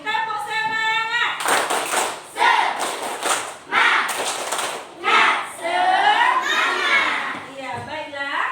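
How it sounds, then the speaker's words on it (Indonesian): Children in a classroom clapping their hands in rhythmic bursts, several short rounds of group claps alternating with a teacher's voice and children's voices. "Tepuk tangan semuanya."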